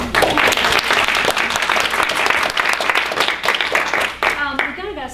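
An audience at a book reading event applauds to welcome the host, steady dense clapping filling the room throughout, with some voices mixing in near the end.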